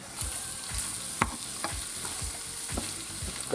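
Rice fries with chopped giblets in a pan, a soft continuous sizzle broken by regular scraping stirs about twice a second, close and clear with no voice.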